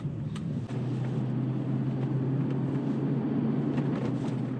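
A 2002 Lexus SC 430 hard-top convertible with automatic transmission gathering speed smoothly, its low steady engine hum and road rumble constant from inside the cabin, with faint clicks over the top.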